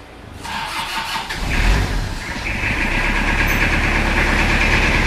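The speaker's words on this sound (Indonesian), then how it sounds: "Mesin langsung hidup" A Toyota Kijang diesel engine with a blow-by fault cranks briefly, catches, and settles into a loud, steady idle with a rough low rumble.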